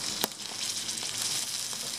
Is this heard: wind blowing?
no